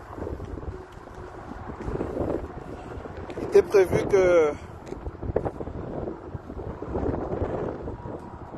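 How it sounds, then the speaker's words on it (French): Outdoor wind buffeting the microphone in gusts, with low rumbling noise running throughout beneath someone speaking French. "il y a beaucoup de vent, on va s'abriter."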